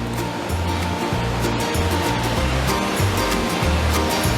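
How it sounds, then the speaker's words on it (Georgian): Rocho waterfall in Lagodekhi, Georgia, a small cascade flowing under a natural arch, gives a constant loud rushing roar, with no talking over the water. "ესეც ჩვენი როჭოს ჩანჩქერი"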